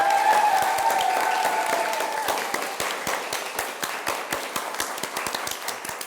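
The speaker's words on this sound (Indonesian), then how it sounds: "Tepuk tangan buat kita." Students in a classroom physics lesson on series and parallel resistor circuits break into applause: dense, close clapping that gradually thins into scattered individual claps over about six seconds, with no talking.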